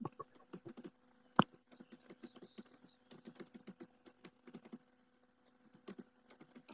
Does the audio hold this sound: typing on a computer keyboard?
yes